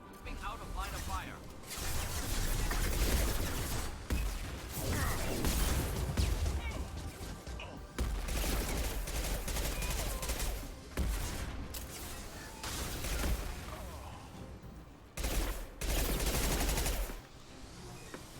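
Sustained automatic gunfire from the Mass Effect 2 video game, loud and dense bursts rattling almost continuously over about eighteen seconds, broken by a few short gaps, with a voice talking over the combat.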